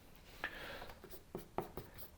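A pen writes on paper in a few quick, faint scratching strokes with short pauses between them, heard close and alone in a quiet room.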